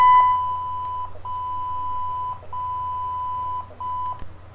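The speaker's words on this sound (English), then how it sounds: "Animated beep." A looping animated beep from a video stream: a steady electronic tone repeating in roughly one-second blocks with brief gaps, loud and alone over a low hum.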